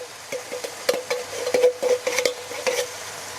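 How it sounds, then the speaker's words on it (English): Diced tomatoes tipped into browned minced meat with garlic and onions in a Dutch oven for lasagne, a quick run of soft wet thuds and spoon scrapes over a faint sizzle, close and brief. "we're going to throw in the tomatoes"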